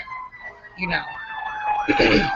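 A police car siren wails steadily in the background of a parked car, its tone rising and sweeping, while people talk over it close by.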